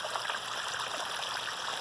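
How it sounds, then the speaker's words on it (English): A backyard pond waterfall with slightly foamy water gives a soft, steady splashing and trickling, heard faintly and evenly with no voices. "Look at the waterfall here."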